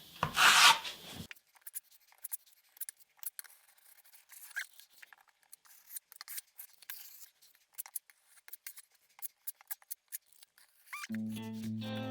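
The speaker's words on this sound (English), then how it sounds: "I use one mud trowel to pick up with, and then I just scuff it in there." Mud trowel scuffing plaster onto drywall: a short burst of loud scraping at the start, then intermittent soft rubbing and scratching strokes at close range, followed by a quieter shuffle at the end.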